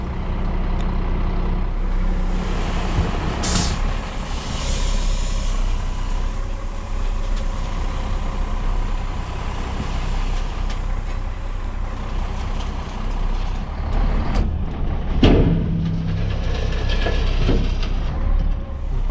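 Heavy tipper truck engine rumbling steadily while hauling stone, with hissing air releases and mechanical clunks partway through as the axle lifts during tipping.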